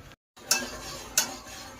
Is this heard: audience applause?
no